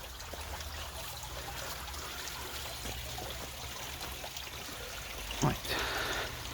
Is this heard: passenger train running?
no